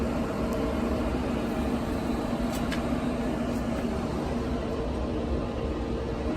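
A Bullseye grill cranked up toward high heat for searing a whole boneless ribeye gives off a steady, even roaring hum, constant and unbroken throughout.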